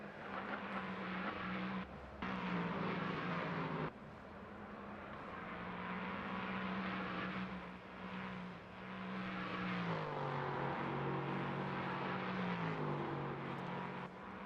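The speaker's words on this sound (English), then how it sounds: "in the Duquesne D08 LMP3 naturally aspirated V8 prototype vehicle" A naturally aspirated V8 engine in a Duquesne D08 LMP3 prototype race car drones steadily in a sim racing game through the Le Mans chicane. Its pitch dips and climbs with braking and acceleration, sustained and fairly loud with no talk.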